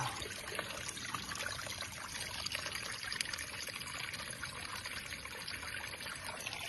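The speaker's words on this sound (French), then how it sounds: "Donc je vais remplir ma gourde, et après je la fais chauffer pour éliminer le plus possible de bactéries." Water bottle held in a flowing mountain stream high on a solo ascent of the Grand Paradiso, filling with a steady, close pouring and trickling rush that continues without break.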